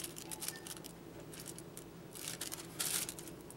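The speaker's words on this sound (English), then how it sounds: "now we're going to cut the tip" Scissors snip the tip off a piping bag for cake decorating, a few faint, quick cuts close by in a quiet room.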